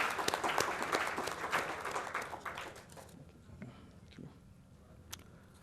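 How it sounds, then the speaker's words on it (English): An audience at an innovation session claps loudly for about three seconds, then the applause thins into a few scattered claps and quiet room noise. "can we have a big round of applause for all those who have participated in this?"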